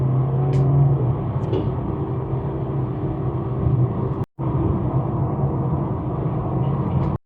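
A recorded car noise plays loud and steady through a speaker for a headphone noise-cancelling test, a constant road-engine rumble with a brief cut near the middle.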